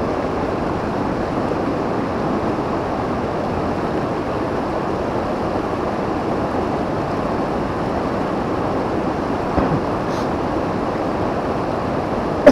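A heavy, fast-running river rushes steadily with a broad, unbroken roar of churning water, loud and close throughout, with a faint knock near the end.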